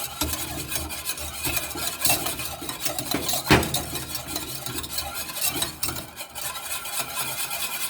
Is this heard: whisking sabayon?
yes